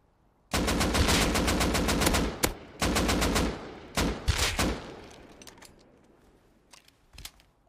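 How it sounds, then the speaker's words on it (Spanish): Tommy gun bursts from Rust gameplay crackle nearby in several rapid automatic volleys, a long sustained burst followed by shorter ones, then fading to scattered distant shots. "Han disparado con Tommy aquí al lado"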